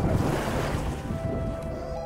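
Sea waves washing onto a fine-sand beach in the Camargue, a steady broadband rush of surf with wind noise, continuous and fairly loud with no talking.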